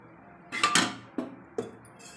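A pressure cooker set down on a stove with oil poured in, heard as a couple of metallic clinks and knocks followed by two sharper taps, close and moderately loud with no talking.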